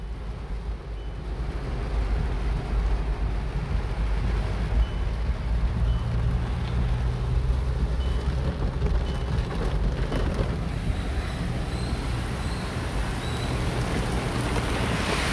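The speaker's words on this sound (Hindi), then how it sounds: "बहुत भीषण वृष्टि है" A very heavy monsoon downpour drums across Nagpur in a thick, roaring wash that swells after a quieter opening and then holds steady and loud.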